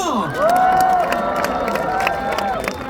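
Audience at a Chungnam National University festival concert cheers and applauds for a singer, a dense, loud crowd roar with whoops and clapping throughout, and voices shouting over it.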